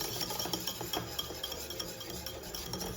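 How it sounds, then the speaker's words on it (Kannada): A whisk stirring crepe batter in a bowl for Crepe Suzette, a continuous quick rhythmic scraping and clinking, close and soft, with no talking. "ವಿಸ್ಕ್ ಮಾಡಿ ಅಂತ ಹಿಂಗೆ ನೋಡಿ"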